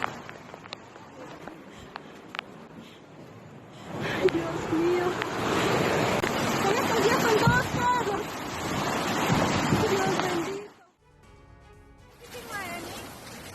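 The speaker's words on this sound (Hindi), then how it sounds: "भारी बारिश के बाद सड़कों पर सैलाब में बहती दिखी कार" Floodwater rushing through streets after heavy rain in Ecuador, a loud churning roar of water that builds after a quieter start, holds for several seconds, then drops off sharply before resuming more faintly.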